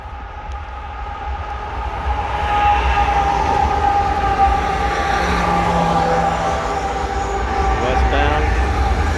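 A westbound CSX empty coal train rolls past during a snowstorm on the old B&O mainline, a steady, continuous rumble of rail cars with faint wheel squeal carrying through the whole stretch.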